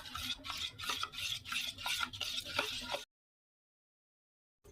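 A whisk beats rice batter for sora pitha in a bowl, giving quick, steady scraping and slapping strokes for about three seconds before stopping.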